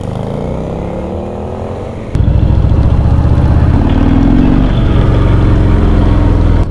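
A Harley-Davidson motorcycle engine idles loudly with a deep rumbling exhaust, then rises sharply in a rev at about two seconds and holds a strong, steady roar close by.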